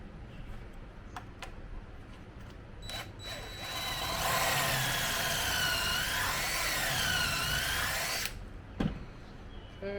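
A power drill bores pocket holes into wood clamped in a pocket hole jig set at 1.5 inches. A few short clicks come first, then a loud, steady whine of about four seconds with wavering pitch as the bit cuts, then a stop and a final knock.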